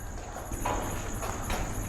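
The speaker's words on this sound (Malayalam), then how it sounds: "ഇവിടെ സാധാരണ ചീവീടുകളുടെ സൗണ്ടേ കേൾക്കുന്നുള്ളൂ." Crickets chirping at night, captured while recording outdoor night ambience. A thin, steady high chirping tone sits under faint rustling and soft low noise for a couple of seconds.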